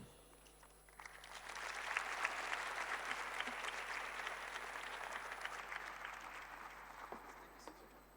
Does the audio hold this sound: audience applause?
yes